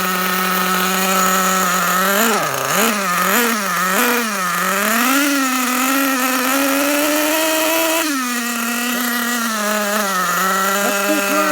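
Losi 8ight nitro RC engine screaming at full throttle with its wheels spinning free, a loud, steady high-pitched whine with several quick rev surges and dips, close up and alone.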